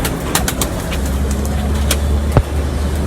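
A domestic pigeon coos at close range against a steady low hum of passing road traffic, with soft intermittent clicks and one brief sharper knock near the end; no voices.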